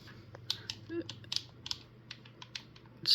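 Xbox controller buttons click one at a time in an irregular run of sharp, close, quiet taps over a faint low hum, with a louder clatter at the end.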